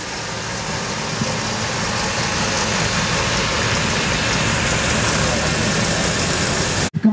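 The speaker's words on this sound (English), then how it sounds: "we'll move down the field with this tractor and 2170 baler" A Massey Ferguson tractor pulling a 2170 baler moves down a field, a loud, continuous engine drone that stays steady throughout before a brief dip and thump at the very end.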